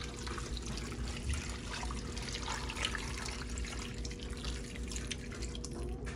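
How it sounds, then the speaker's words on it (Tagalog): Water being poured into a cooking pot for Visayan balbacua, a steady dripping, trickling flow that runs continuously at moderate level with no talking. "So ngayon, lalagyan natin ng tubig."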